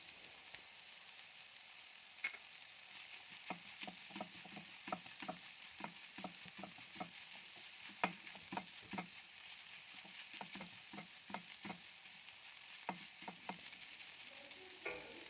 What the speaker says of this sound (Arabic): هننزل بيهم على الفراخ بتاعتنا برضو ونشوحهم كده حاجة بسيطة